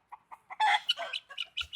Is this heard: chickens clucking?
yes